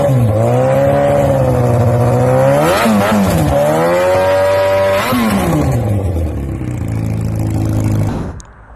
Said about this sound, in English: This is the aftermarket exhaust, the Tose, which makes the sound like a thunder.